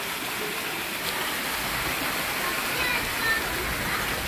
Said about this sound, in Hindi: भयंकर बारिश हो रही है आज तो।